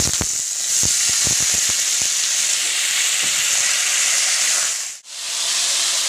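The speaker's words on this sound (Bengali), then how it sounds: "এর মধ্যে আমি আলুটা দিয়ে দিচ্ছি, কেটে রাখা ডোমা ডোমা করে ছোটো ছোটো করে কেটে রাখা আলু" Diced potatoes drop into hot oil tempered with panch phoron and sizzle, a loud steady frying hiss with a few sharp pops and crackles early on, then a brief dip before the sizzling resumes.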